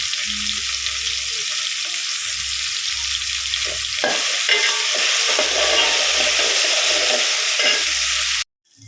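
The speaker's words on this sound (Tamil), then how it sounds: "நல்லா தக்காளியும் நல்லா வதக்கணும்" Onions and tomatoes sautéing in a pan for a cauliflower potato kurma, with a steady loud sizzle and periodic stirring scrapes throughout, cutting off abruptly near the end.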